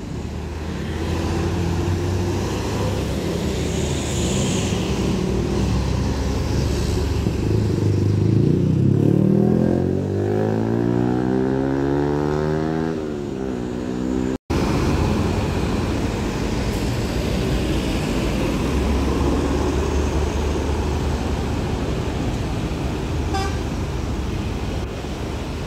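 A Gumarang Jaya Mercedes-Benz MB1626 automatic bus pulls out of a parking area, its engine droning steadily with rising whine as it moves off, amid continuous traffic rumble and a brief horn toot.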